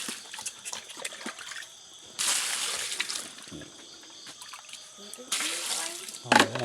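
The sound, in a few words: running water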